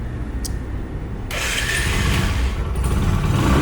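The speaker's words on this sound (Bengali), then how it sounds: "বাইকটা এখন স্টার্টে দেখাবো কন্ডিশন কেমন আছে সাউন্ড কীরকম" A used Discover 100cc motorcycle engine cranks and catches, then settles into a steady, loud idle nearby, with a few clicks before it starts.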